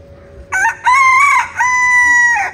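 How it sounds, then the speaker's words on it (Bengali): A rooster crows loudly and close by, one long drawn-out call in several rising and held segments, with no talking. "মোরগ বুঝতে পারছে যে ক্যামেরা ধরছিলাম, এই জন্য ডাক দিল।"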